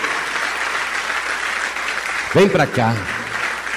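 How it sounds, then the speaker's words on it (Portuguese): Church congregation applauding steadily in a broad wash of clapping, with a voice briefly speaking over it near the end. "vamos aplaudir mais. Vamos aplaudir mais ao nome do Senhor."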